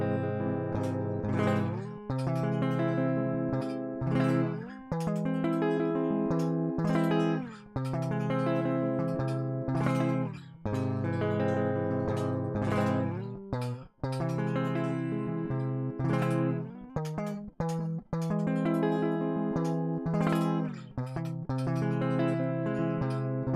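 Strummed chords on the bottom four strings of a guitar ring out in a steady rhythm, each chord hit sharply and left to sustain, played up close with no voices.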